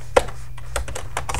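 Fingers tap on a computer keyboard while an invitation is typed in a word processor, producing close, irregular clicks in quick bursts with short pauses between them.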